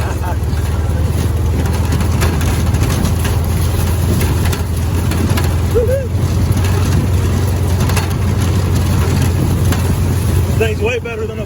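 A VW rail buggy with an 1835cc engine runs on a dirt trail, its low engine rumbling steadily and close. Wind and rattles sit over it, and a voice whoops briefly near the end.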